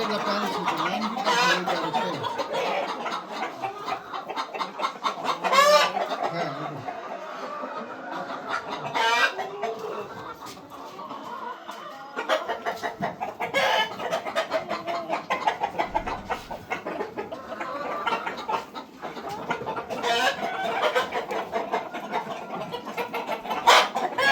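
Parent stock chickens on a poultry farm cluck continuously in a dense flock, with overlapping calls and occasional louder squawks close by, steady throughout.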